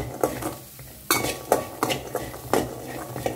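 A spoon stirs a Goan squid and chilli-powder mixture in a pan, making close clinks and scrapes against the metal at an uneven rhythm over a light sizzle, with no talking.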